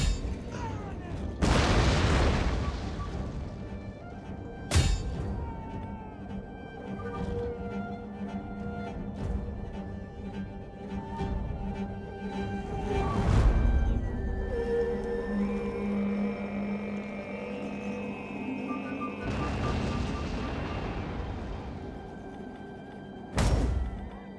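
Cannons fire during a battle in the video game Total War: Attila, several heavy booms spaced several seconds apart over a continuous rumbling battle din and game music, with no talk.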